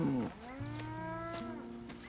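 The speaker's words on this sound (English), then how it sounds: "Here's the cows." Cattle moo in the video game Red Dead Redemption 2: one long, loud, close bovine call with a rising then steady tone, holding for about two seconds with no talking.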